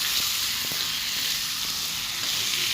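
Chicken meat fries in a pan for chicken pulao, a loud, steady sizzle and hiss with faint stirring clicks, close and uninterrupted by speech.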